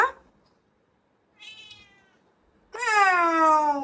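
A cat meows twice up close, a shorter call followed by a longer, louder drawn-out meow after a pause.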